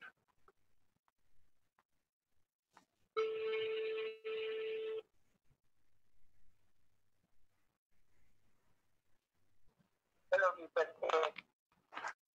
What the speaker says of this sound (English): Trying to dial him in.